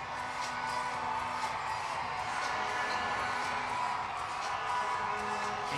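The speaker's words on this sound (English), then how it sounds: "the crowd gets loud again as they play his video up on the video boards here" An arena crowd at an indoor soccer game between the Kansas City Comets and Utica City FC keeps up a steady, distant roar of cheering and noise, with no sharp peaks.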